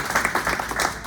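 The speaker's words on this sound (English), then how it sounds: "let's give Michael another round of applause." Audience applause after a poetry reading at a bookstore open mic, a short burst of uneven clapping from a small crowd, moderately loud with individual claps distinguishable.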